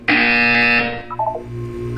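A loud electronic buzzer from the video game Portal 2 sounds for about a second, then drops to a lower tone and a brief electronic blip.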